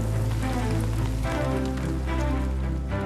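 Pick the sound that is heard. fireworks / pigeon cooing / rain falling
rain falling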